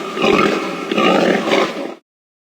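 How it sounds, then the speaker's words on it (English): A pig grunts and snorts in a rough, noisy burst lasting about two seconds, close and moderately loud, with a couple of throaty pulses and no talking. "Pig."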